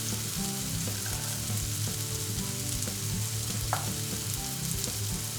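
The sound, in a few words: vinegar and crushed garlic sizzling in a pan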